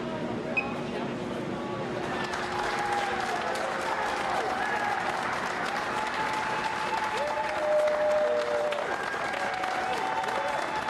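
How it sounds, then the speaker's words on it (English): A crowd gathered outside a warehouse cheers and applauds as a vaccine shipment departs, a steady wash of clapping and voices with scattered shouts, fairly distant and continuous throughout. "here's a clip of the crowd that gathered to watch the vaccine leave the warehouse"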